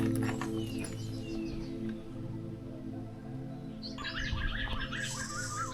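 Birds chirp in forest near Kotabagh by Corbett, with faint calls early on and a cluster of brighter, repeated tweets in the last couple of seconds over a constant low background hum.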